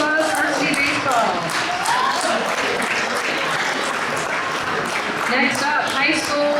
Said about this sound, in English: Round of applause, varsity baseball.